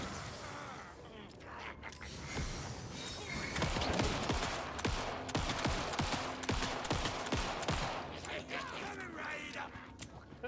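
Rapid gunshots ring out in the survival horror game Alan Wake II, with sharp, loud reports bunching into bursts amid mechanical clicks and clatter over steady background game noise.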